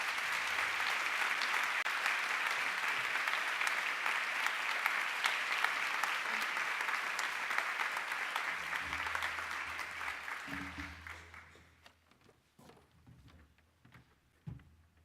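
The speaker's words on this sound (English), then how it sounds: "please join me in giving her a huge applause" Audience applause at a corporate award ceremony honoring a top woman attorney in tech, a dense sustained clapping crowd for about eleven seconds that then fades out, leaving quiet room noise and a few stray claps.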